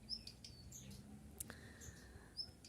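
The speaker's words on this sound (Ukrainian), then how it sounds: "Співають пташки, он сидить і щось там щолкає своїм клювом." A few faint, high bird chirps ring out, spaced apart against a quiet garden background.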